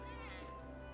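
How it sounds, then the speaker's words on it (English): A cat in Final Fantasy 7 Remake gives a faint, brief meow over a steady humming game background, quiet and in the distance. "I think we found the cat."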